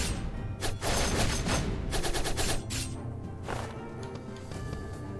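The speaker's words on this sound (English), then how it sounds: "He's shooting shurikens." In the video game Skul: The Hero Slayer, a ninja-build character fires shurikens in dense, rapid volleys. Loud, crackling bursts of hits overlap with game effects, and the barrage thins out after a few seconds.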